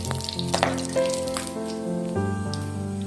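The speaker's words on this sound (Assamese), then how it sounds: "এইটো ভালকৈ তেলত পকাই ল'ব লাগিব অলপ।" Bay leaf, panch phoron and dry chili frying in hot oil give a steady close sizzle with light popping, under a sustained tonal backing for about three seconds.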